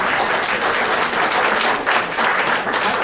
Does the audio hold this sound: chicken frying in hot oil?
no